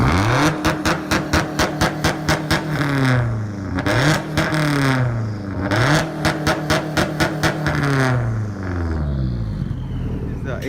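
Engine of a 2004 Subaru WRX STI held on two-step launch control, with rapid popping pulses and repeated loud revs rising and falling, close and dominating.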